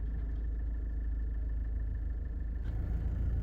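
SUV engine as the clutch is slowly released to move off, a steady close rumbling drone that holds level throughout, without any clear rev.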